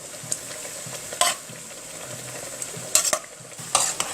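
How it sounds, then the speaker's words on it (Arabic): Pasta being stirred into tomato sauce in a pan, with a soft continuous sizzle and a few sharp scraping clinks of the spoon against the pan, close and fairly quiet, with no talking. "انا بقى هبدا اقلب ايه المكرونه بتاعتي جوه الصلصه زي ما انتم شايفين"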